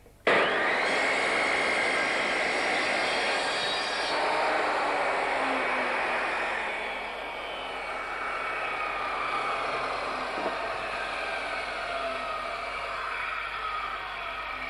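A Triton saw starts abruptly and runs loud and steady while it takes a thin shaving cut off a wood piece set at 44 degrees; its whine shifts slightly partway through the cut, with no talking.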